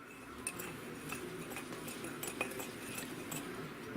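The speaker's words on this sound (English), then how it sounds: "mix everything all up inside the coffee cup, and make sure you mix it well" A spoon clinks and taps against a coffee cup while ingredients are stirred well for a copycat fiesta ranch pretzel recipe, giving light, irregular metallic ticks over a quiet background.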